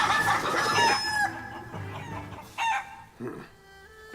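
Chickens clucking and crowing in the video game Shenmue III, a loud, busy flurry of squawks and clucks that thins out into sparser calls, with a little game speech mixed in.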